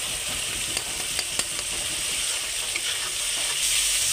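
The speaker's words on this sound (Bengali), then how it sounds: "গ্যাসটাকে একটু কমিয়ে দেবো, ভালো করে কষিয়ে নেবো মশলাটাকে" Masala spice paste fries in a pan over a lowered gas flame, giving a steady close sizzle with faint scraping taps of stirring.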